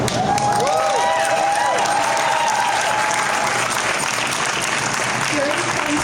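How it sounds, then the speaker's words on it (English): Outdoor rally crowd applauding and cheering, a loud continuous wash of clapping with scattered shouts and whoops, voices rising near the start. "Give yourself a round of applause."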